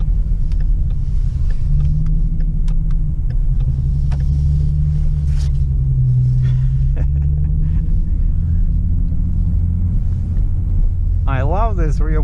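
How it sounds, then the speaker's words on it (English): Rear-wheel drive car rolling through snow, a loud continuous low engine and tyre rumble heard from inside the cabin throughout, with a voice speaking briefly near the end. "I love this rear-wheel drive in the snow"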